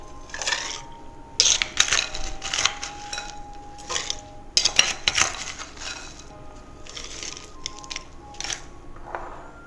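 Ice cubes dropped into a glass of bourbon clink and crunch in several short bursts, with rattling knocks against the glass spread through the pour, fairly close and with no talking.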